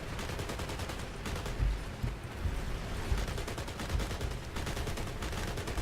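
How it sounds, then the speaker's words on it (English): Sustained machine gun fire in War Thunder around a Ya-5M artillery boat, a dense rapid chatter of overlapping bursts with thumping heavier shots, loud and continuous throughout. "Just the amount of MG fire going on at the moment"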